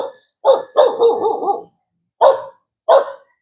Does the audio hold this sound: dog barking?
yes